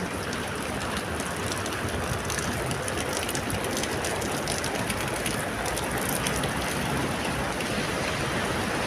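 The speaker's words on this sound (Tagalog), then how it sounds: "Malakas ang ulan eh." Heavy rain pours steadily and loudly close by, a dense, unbroken hiss of drops hitting surfaces that holds without pause from start to finish.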